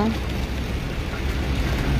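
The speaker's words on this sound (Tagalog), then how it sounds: "Lakas ng ulan" Steady, dense hiss of heavy rain pouring down at a cemetery, constant and fairly loud throughout with no breaks.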